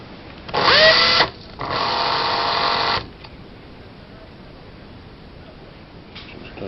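A cordless drill spins a thread bobbin winder for a Speedy Stitcher sewing awl in two close whirring bursts, the first higher-pitched and shorter, the second longer and steady, followed by quiet background and a faint clunk at the end.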